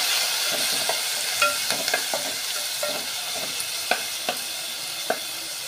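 Onion and garlic frying in oil for a sardine fish curry, a steady sizzle broken by repeated clinks and scrapes of a stirring spoon against the pan, close and with no talking.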